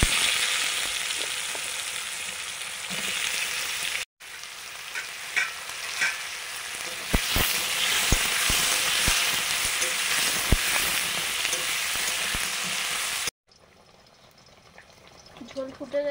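Fish curry broth with potato, eggplant, dried chilli and turmeric bubbling steadily in a pan, a broad continuous hiss with scattered pops and a few stirring knocks, then a brief pause and a quieter stretch near the end.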